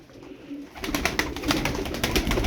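A rapid fluttering of Arabian game pigeon wings flapping close by, a burst of quick beats over steady outdoor background noise.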